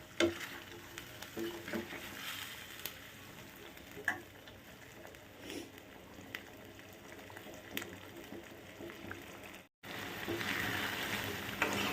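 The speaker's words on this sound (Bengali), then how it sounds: "সুন্দর মটর দিয়ে জিনিসটাকে কষিয়ে নিই।" Paneer and peas sauté over medium flame in a pan with garlic and coriander, making a steady sizzle with frequent stirring scrapes, close and continuous, with a brief drop near the end.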